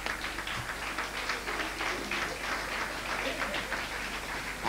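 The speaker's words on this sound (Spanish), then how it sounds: "Recibamos pues con un aplauso de bienvenida" Audience at a talk on UFOs and parapsychology in Balaguer clapping steadily in welcome, a dense, continuous patter of many hands heard from within the hall.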